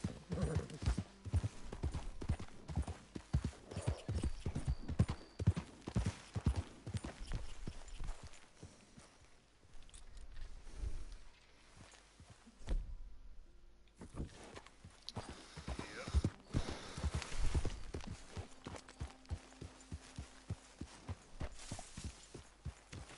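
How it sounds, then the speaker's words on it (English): Horse hooves clip-clop steadily at a walking pace, close and clear, with occasional snorts and rustling around them, in the video game Red Dead Redemption 2. "Careful with that horse, Arthur."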